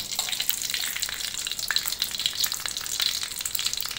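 Jad paan herb roots fry in hot oil and are slowly stirred, giving a dense, steady crackling sizzle with light scraping, close and moderately loud.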